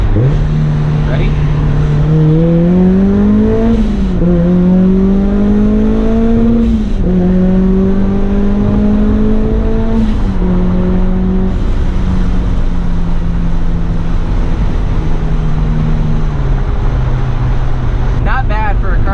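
A supercharged Mazda Miata that had not run in eight months revs and pulls hard through several gears, its loud engine whine climbing and dropping with each shift, close and dominant throughout.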